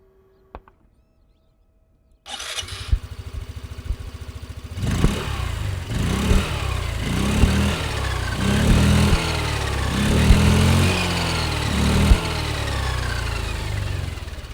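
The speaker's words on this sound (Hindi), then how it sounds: "आपको इसका एग्जॉस्ट नोट सुनाता हूँ" A Hero Destini 125 scooter's 125 cc engine cranks and fires after a short silence, then settles into a steady nearby exhaust note with rhythmic pulsing swells of revving, loud and alone.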